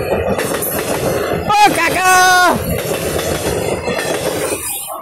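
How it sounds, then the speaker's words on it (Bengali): Freight train passing along a railway line near a sal forest, its rumble and clattering wheels close with a brief metallic wheel squeal, while a person calls out over it. "মাল ট্রেন আসা শুরু হয়ে গেছে দেখবারই পাইতেছো তোমরা ওই যে ট্রেন"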